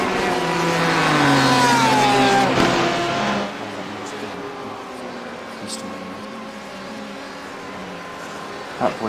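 Loud race car engine in the iRacing sim at the 12 Hours of Sebring, revving with rising and falling pitch sweeps for the first few seconds, then settling into a steadier, quieter drone that runs to the end.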